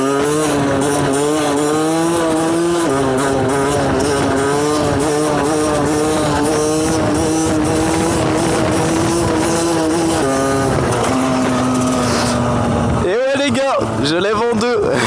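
Motorcycle engine revving hard while lifting into a wheelie in second gear: loud, sustained roar with rising and falling pitch, a brief drop near the end, then sharp throttle blips.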